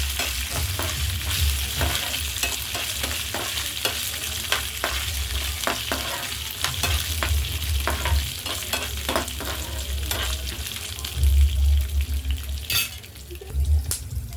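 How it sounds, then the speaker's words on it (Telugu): Garlic and peanut pieces sizzle steadily as they are lightly fried in a pan for chutney, with close stirring scrapes breaking through the continuous hiss. "వెల్లుల్లి వేసానండి పలుకులు మరీ రోస్ట్గా కాకుండా కొంచెం లైట్గా వేయించుకోవాలి"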